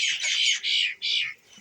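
Chickens in a village home yard squawk three times in a row, sharp, loud and close, with almost no background noise.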